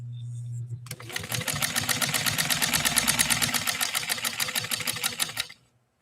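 Domestic Model 153 sewing machine stitching through two layers of snakeskin-type material, miked very close: a fast, steady run of mechanical clatter that starts abruptly after a low hum, holds an even rhythm for about four seconds, then stops.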